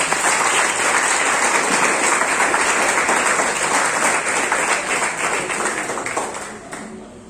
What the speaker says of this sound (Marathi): नैशाच्या पालकांसाठी जोरदार टाळ्या.